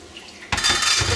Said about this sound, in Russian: Сейчас я немножечко добавлю воды